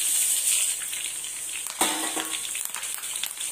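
Garlic tempering (popu) crackles and sizzles in hot oil for a spinach and gongura pickle, a continuous bright hiss with a sharper burst of popping partway through, heard on its own without talk.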